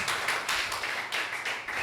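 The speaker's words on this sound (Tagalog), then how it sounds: "bigyan natin muli ng malakas sa palakpak ang Diyos" A congregation claps loudly and steadily at a Sunday worship service, a dense, continuous wash of many hands filling the room without pause, with no voices rising above it.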